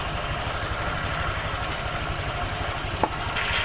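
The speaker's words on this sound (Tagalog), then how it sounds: "Painitin lang natin yung makina" A Honda Click scooter engine idles steadily while warming up, a close, even low putter with light vibration, broken by one small sharp click near the end.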